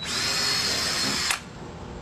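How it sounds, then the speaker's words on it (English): Power drill boring a hole through a kayak hull panel for stitch-and-glue construction, a loud steady high whine that stops abruptly with a click, leaving a quieter hum. "you're simply going to drill a hole"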